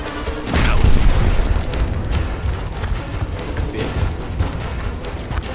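Grenade blast in a shooter video game, a loud booming explosion followed by dense rumbling and crackling gunfire-like noise that continues throughout, close and heavy, with no voices over it.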